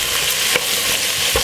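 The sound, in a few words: stirring cabbage frying in a pot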